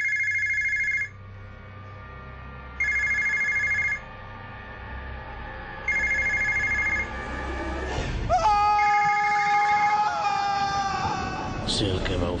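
A telephone bell rings in three spaced bursts, followed by a sudden loud jolt with shouting and tonal music.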